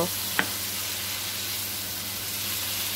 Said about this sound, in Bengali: কুসাটা দিয়ে ভালো করে নেড়ে চেড়ে সব কিছু একসাথে মিক্স করে নেব